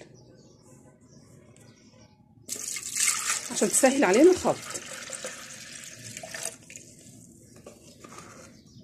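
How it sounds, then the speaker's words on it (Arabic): Water from a cup poured into a blender jar for qatayef batter of flour and semolina, a broad splashing pour starting abruptly and running several seconds under someone speaking Arabic. "وننزل بالميه الاول"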